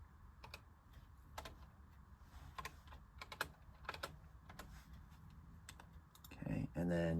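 Keystrokes on a computer keyboard as a Wi-Fi network name is typed during Raspberry Pi setup, a run of separate sharp clicks with uneven gaps, close and fairly quiet, ending in a brief louder burst of rustling.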